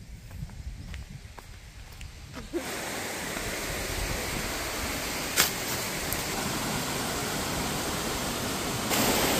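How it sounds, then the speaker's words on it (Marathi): Water pours steadily over the small Domzara waterfall near Jawhar. A quieter flowing stream swells within seconds into a loud, continuous broadband rush that holds for the rest of the time. "इथं छोटासा वॉटरफॉल आहे"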